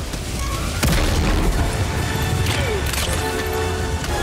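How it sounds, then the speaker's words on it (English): Rocket explosions in the video game Helldivers 2: a loud boom lands near the start, followed by a couple more blasts and crashing debris over a rumbling backdrop. "Someone is shooting with rockets and I don't know who."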